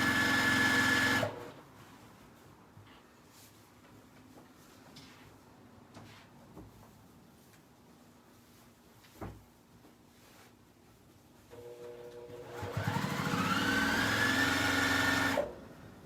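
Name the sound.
sewing machine stitching a seam on a diaper bag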